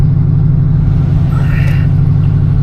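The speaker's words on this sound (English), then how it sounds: "We'll go ahead and start the test drive" A 1973 Oldsmobile Delta 88 cruises on a cold-weather test drive, its engine a loud, steady low rumble heard from inside the cabin, without talk.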